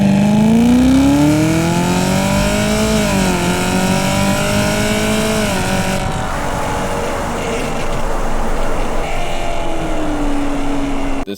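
A tuned Chevrolet Camaro makes a full-throttle pull, its engine roaring loud and close as the revs climb through the gears with brief dips at the shifts, then settling into a lower steady drone.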